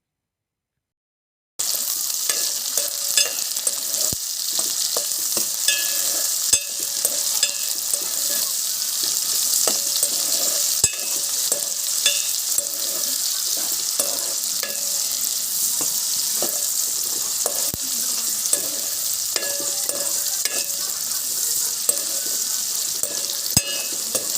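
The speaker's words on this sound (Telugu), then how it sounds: "కట్ చేసుకున్న ఉల్లిపాయ ముక్కలు వేసుకొని ఫ్రై చేసుకోవాలి" Chopped onions frying in hot oil for chicken curry, a steady loud sizzle that runs unbroken and close, with small crackles and the odd scrape of stirring.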